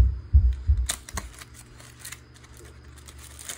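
Cardboard packaging of a motion sensor light is handled and opened up close, with a few soft thumps followed by light tapping and rustling clicks, no talk.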